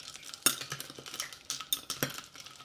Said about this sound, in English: I've been stirring for a while